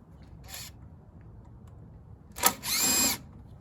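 A power drill with a Phillips bit spins out screws on an MTD snowblower with a 5 HP Tecumseh engine outdoors, giving a short whir followed by a louder, sustained buzzing run, close up.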